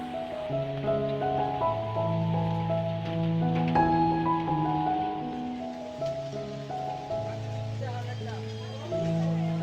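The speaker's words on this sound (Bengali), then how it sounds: "খাওয়া দাওয়া শেষে বৃষ্টিটা যখন একটু কমে এলো আমরা সবাই চলে আসলাম আমাদের রুমে" Rain falls steadily in the Sajek hills, a soft continuous patter heard beneath loud, prominent music throughout.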